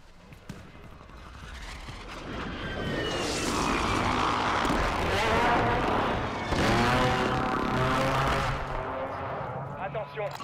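Reconnaissance drone in a Call of Duty video game sweeps overhead, a loud engine whine that rises, peaks and slowly fades over about ten seconds, with battle noise and bursts of radio chatter mixed in.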